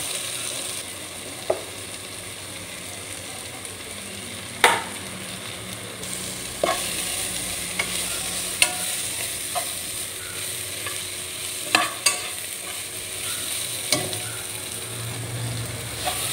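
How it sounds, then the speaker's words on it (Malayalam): Chili powder and turmeric fry in a pan with a steady low sizzle, broken by occasional sharp clicks and scrapes of stirring, close and with no talking. "പൊടികളൊക്കെ നന്നായിട്ട് മൂത്തു വന്നിട്ടുണ്ട്"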